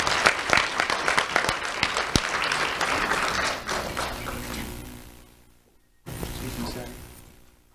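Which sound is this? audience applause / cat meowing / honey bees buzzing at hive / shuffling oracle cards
audience applause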